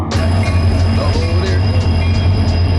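A train passing close by, with a loud steady rumble of wheels on rails, a sustained high metallic squeal, and rhythmic clicks repeating through the whole stretch.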